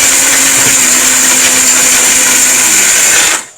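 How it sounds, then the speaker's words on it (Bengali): Electric blender grinding, running loud and steady with a constant whirring motor tone, then winding down quickly at the end. "এই ব্লেন্ডার দিয়ে হয় কি দেখেন"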